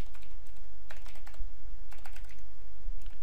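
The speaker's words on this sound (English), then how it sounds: "So if not, I should want to type OpenID" Close, steady typing on a computer keyboard, with bursts of quick key clicks and short pauses against a low background hum.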